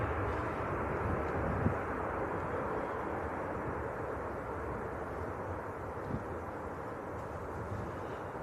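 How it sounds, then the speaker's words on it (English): An Emirates airliner moves at Manchester Airport, giving a steady, distant low jet rumble with broadband roar and wind noise. It stays at an even level throughout, with no talk. "Emirates is on the move."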